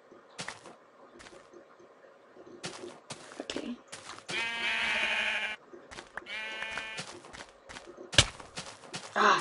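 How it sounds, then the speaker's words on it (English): Sheep in a mining video game bleat twice in drawn-out wavering cries amid scattered clicks and soft footstep-like taps, with a sharp thump near the end. "there's a herd of sheep"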